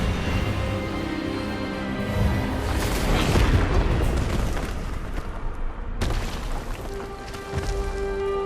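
A heavy, booming magical blast from the Expelliarmus disarming spell in Hogwarts Legacy rolls on loudly for several seconds, with a second sharp impact near the end.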